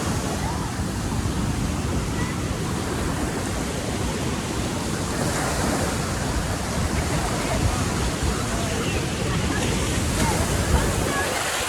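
Continuous wash of ocean surf in San Juan, Puerto Rico, a dense, steady roar with no break, heard close and fairly loud throughout.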